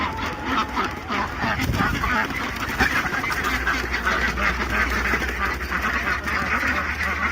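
Geese calling in a noisy flock of waterfowl, with honking and quacking overlapping continuously, fairly loud and close, alongside a steady low hum.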